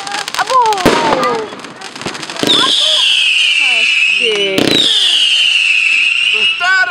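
Fireworks display in Náklo bursting overhead, with sharp explosive bangs followed by long whistling, screeching rocket trails and crackling, loud and close, while people exclaim in the background.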